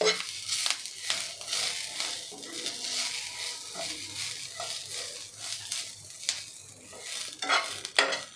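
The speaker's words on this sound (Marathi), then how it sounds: "जेवढा आपला पॅन गरम आहे त्यामध्येच आपली खसखस आणि कोथिंबीर छान अशी परतून होते" Poppy seeds and coriander roast in a hot pan while being stirred, giving soft sizzling and scraping stir strokes at close range, fairly quiet and unaccompanied by speech.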